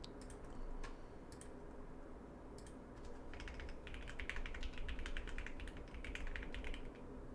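Rapid typing on a Bubble 75 mechanical keyboard fitted with Aqua King switches, crisp keystroke clicks in quick uneven bursts that grow denser toward the end, close but quiet over a faint room hum.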